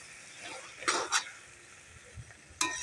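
Prawns and taro greens stirred in a pan for a village-style dish, a few short scraping and clattering bursts of the spatula over a quiet, faint background.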